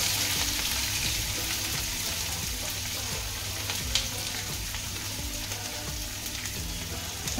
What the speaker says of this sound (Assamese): ভালকৈ ভাজি লওঁ।